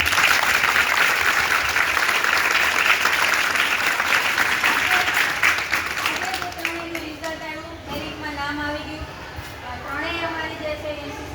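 An audience breaks into loud, sustained applause for three academy girls who passed army selection, the clapping fading after several seconds as voices and chatter take over.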